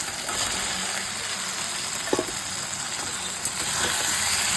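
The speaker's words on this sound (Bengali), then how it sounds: "বড়াগুলো এবার ঢেলে দেব" Chhana (paneer) badas frying in hot oil, giving a steady close sizzle with a few brief clicks and spatters partway through.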